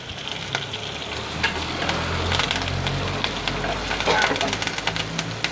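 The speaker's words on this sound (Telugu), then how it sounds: "మనం అరటికాయ ముక్కలు ముక్కలు నొక్కున్నవి వేసేసుకొచ్చాం కరివేపాకు కూడా వేసాను" Raw green banana pieces with curry leaves frying in a pan, giving a steady close sizzle with crackles and occasional stirring scrapes, with a low murmur of voice underneath.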